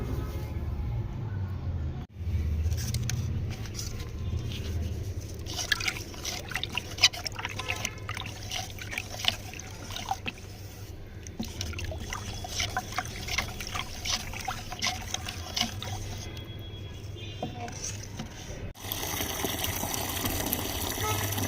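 Water is poured into a container to dilute fermented jeevamrit, a steady trickling and filling flow with irregular splashes running for most of the stretch, ending in a broader noisy burst.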